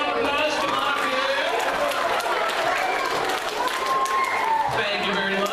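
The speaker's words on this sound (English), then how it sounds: "Everybody give yellow shirt a big round of applause" A middle school show audience claps and applauds a volunteer in a yellow shirt, a sustained wash of clapping mixed with crowd chatter and a voice over it.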